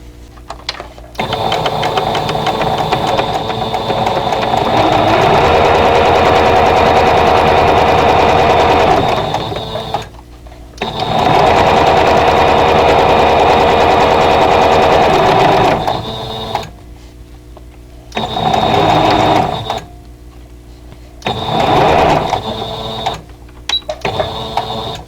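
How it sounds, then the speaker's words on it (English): A sewing machine stitches a piece onto a vintage-style flower pot quilt block in long, loud, steady runs of rapid mechanical whirring, broken by several pauses and a few short bursts near the end. "then we're going to sew this piece on"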